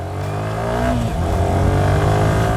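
A stock superbike engine fires up and revs close by, a loud, sustained motor roar with rising pitch and steady rumble throughout, no voices.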